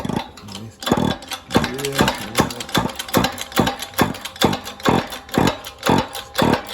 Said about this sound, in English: we're just pressing the bearing on, mate